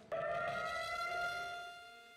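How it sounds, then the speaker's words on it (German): A memorial siren sounds at a demonstration in Israel, one steady sustained wail rising abruptly at the start and holding loud and even before slowly fading, with no talk over it. "Hunderte von Demonstranten hielten dann schweigend inne und lauschten einer Sirene"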